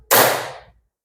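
A single sharp handclap in a group clapping game, loud and close, with a short reverberant tail fading out to silence.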